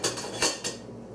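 A one-year-old baby handles kitchen utensils such as spatulas, tongs and a wooden spoon, producing three quick clattering knocks of utensils striking each other and the counter, close and fairly loud.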